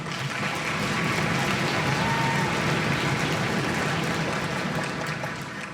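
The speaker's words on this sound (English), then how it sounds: "I love the applause with your feet." Students in a school choral festival audience applaud by stomping their feet, a dense continuous rumble of thumps and claps that swells and holds steady for several seconds before easing slightly at the end.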